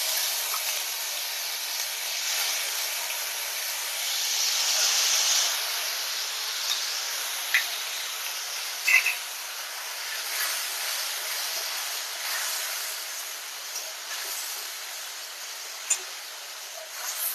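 Tomato paste fries in hot oil in a kadai after cumin and cinnamon, a continuous soft high hiss with a brief swell midway and a few small clicks of a utensil.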